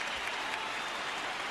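A packed NBA playoff arena crowd at a 2004 Spurs–Lakers Game 6 jeers Shaquille O'Neal as he takes his seat, a steady, loud, dense wall of roaring and clapping with no pauses.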